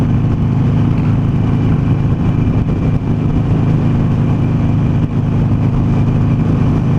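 A Harley Davidson Sportster Roadster motorcycle rides along on a windy day, its engine a loud, continuous low throaty rumble mixed with heavy wind buffeting for about seven seconds.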